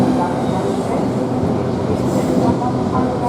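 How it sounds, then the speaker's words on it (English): A Class 395 train, unit 395021, running on the Margate to London St Pancras service toward Thanet Parkway, heard from on board as a loud, steady rumble of wheels and motors throughout, with no talking. "We are getting this train to 11:02 train from Margate to London St Pancras."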